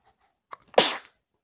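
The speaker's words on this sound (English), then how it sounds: "I just sneezed" A single sharp human sneeze, close and loud, with a short intake of breath just before it, heard alone in near silence.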